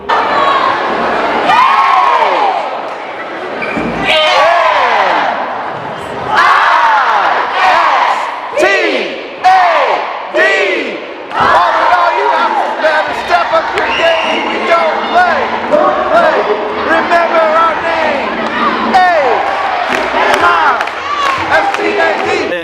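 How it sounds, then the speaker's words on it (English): A school house group in a gym shouts a loud, rhythmic cheer together, with bursts of yelling, clapping and stomping filling the whole stretch. "So we got to be part of a cheer."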